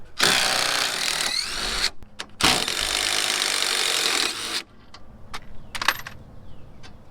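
A ratchet wrench with a 16 mm socket undoes the lower control arm bolts on a 20-year-old Dodge Dakota: two bursts of fast, harsh ratcheting buzz, then quieter clicks and clanks of metal.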